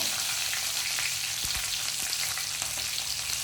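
Curry leaves frying in very hot oil give a loud, continuous crackling sizzle with a few sharper pops, alone, with no voices.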